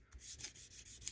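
Jumbo frets on a Jackson compound-radius neck polished with 600 grit sandpaper: close, quick back-and-forth rubbing strokes, about six soft scratchy passes in steady rhythm.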